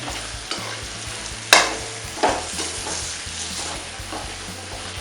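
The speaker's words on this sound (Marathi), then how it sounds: "काप केलेली टोमॅटोसुद्धा टाकूया हीही मी दोन लहान टोमॅटो घेतलेली आहेत सर्व आता परतून घेऊया" Chopped tomatoes, brinjal, onion and ginger-garlic paste sautéing in a pan, a steady low sizzle broken by a few sharp scraping stirs of a spoon, close and fairly quiet with no talk.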